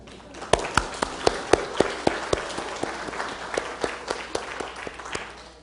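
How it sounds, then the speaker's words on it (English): Scattered applause from a small audience after a talk, the individual claps sharp and distinct, tapering off gradually over several seconds. "unless you want to applaud again"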